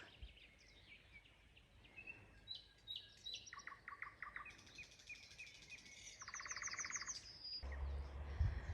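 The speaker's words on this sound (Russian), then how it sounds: "Послушаем соловьев." Nightingales sing at sunset in a village, bursts of bright chirps and trills repeating from moderately near over a low rustling background, growing louder and denser toward the end.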